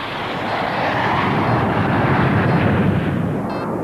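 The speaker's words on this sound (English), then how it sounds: "This is his quarry, the Red Arrows." Red Arrows jet aircraft roar overhead in a loud, sustained rushing blast that swells and slowly fades, with no voices.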